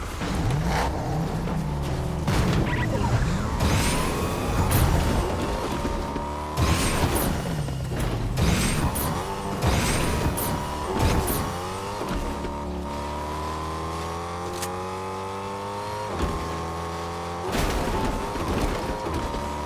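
A car in a video game drives and revs continuously, the engine pitch climbing and dropping through repeated gear changes, with sharp clunks and bumps scattered throughout, loud and close.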